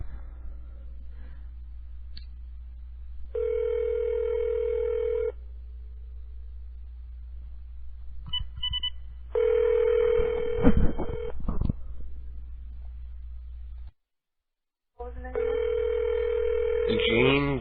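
A prepaid calling card call plays over a phone line, with steady tone bursts, a rapid flurry of dialing tones and a brief dropout, under a constant low line hum and some faint talk.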